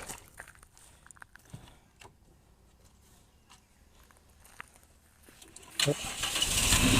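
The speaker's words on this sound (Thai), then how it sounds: "เดี๋ยวสิสตาร์ทเครื่องให้เบิ้ง พร้อมาสตาร์ทนะ" A used car's gasoline engine cranks and fires at the end, rising into a loud revving roar after a quieter stretch of footsteps and small handling noises.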